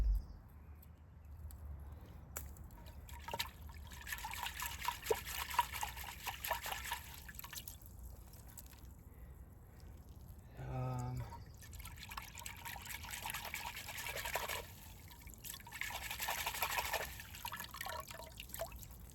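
Water trickling and dripping in a small pond while muck is washed off plant roots, with faint continuous splashing and a brief tonal sound partway through.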